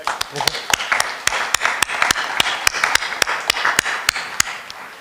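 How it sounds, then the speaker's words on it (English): At an award ceremony, a small audience gives a round of applause, sharp separate hand claps in an uneven rhythm that carry on for several seconds over a soft room murmur. "we owe him a round of applause"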